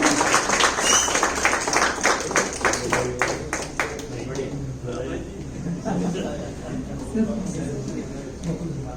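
Audience applause at a Lions Club event, clapping dense and lively for the first few seconds, then fading into murmuring voices and a speaker talking over the room.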